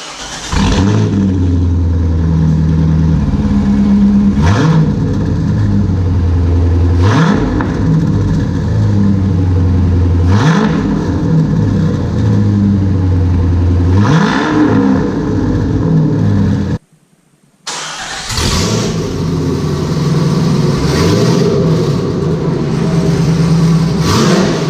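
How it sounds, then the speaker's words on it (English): A Chevrolet C5 Corvette fitted with new headers and a full exhaust revs loudly in a series of sharp blips that fall back to a rumbling idle, repeated many times with a brief cut partway through. "the exhaust is completely installed. So let's go ahead, fire it up, and get some before and afters."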